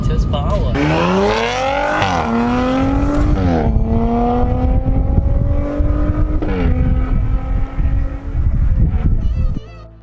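Audi RS4 engine pulls hard through rising revs up to about 116 km/h, with stepped pitch climbs at each gear change, then eases off as the throttle is lifted; loud in-car drone with a voice talking over it.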